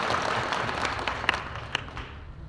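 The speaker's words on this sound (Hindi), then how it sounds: "इनका जोरदार तालियों के साथ स्वागत करें।" Applause from a crowd welcoming a guest at a political gathering in India: continuous, fairly loud clapping with a few sharp nearby claps standing out, then tapering off toward the end.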